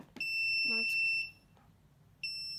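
A shrill electronic buzzer driven by an Arduino to mimic an ambulance sounds in long steady tones, cutting off briefly, then starting again after a short pause.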